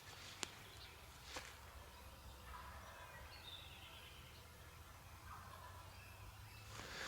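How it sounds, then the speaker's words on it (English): Wild turkeys gobble faintly in the distance during a spring turkey hunt, with a few scattered gobbles rising over quiet outdoor ambience. "There's so many turkeys gobbling right now, it's unbelievable."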